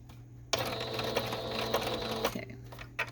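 A sewing machine stitches a fabric strip onto muslin, starting abruptly and running as a steady, close mechanical whir for a couple of seconds before stopping.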